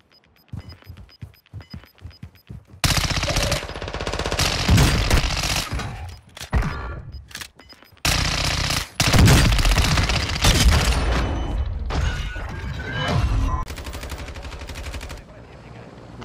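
Akimbo pistols blasting in Warzone 2.0, a burst of sharp shots at the start, then long dense stretches of rapid gunfire with brief pauses, loud and close, with a voice speaking at points.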